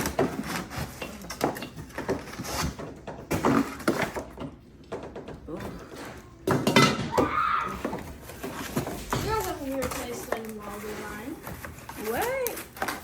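Gotham Steel Diamond pots from a 20-piece set being unpacked and handled, with several hollow metallic clanks and knocks spread under steady nearby talk.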